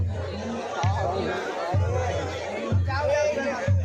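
Festival crowd at Baba Maninag temple, Ranpur Mahotsav: steady babble of many people talking, with low thumps recurring about once a second beneath the hubbub.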